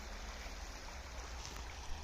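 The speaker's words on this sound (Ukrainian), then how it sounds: "Річка рядом, шум річки." The Prut River flows at Yaremche, Ukraine, with a steady, soft rushing hiss that stays even throughout, fairly faint and continuous, with no voices.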